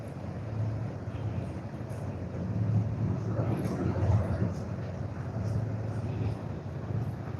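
Steady outdoor wind during fishing, rumbling low and continuous against the microphone, with no clear voices.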